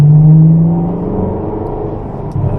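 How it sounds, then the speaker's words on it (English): A supercar on the Rockingham track gives a loud engine drone, with a strong low tone at first that eases into a steady in-cabin rumble and a small surge near the end. "So stay to the left hand side and start to accelerate."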